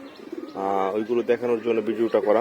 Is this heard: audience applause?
no